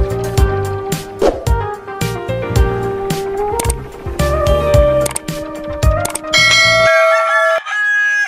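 Gamecock roosters crow loudly and repeatedly at close range, long drawn-out calls overlapping one another, with a ringing bell-like tone near the end and no talk.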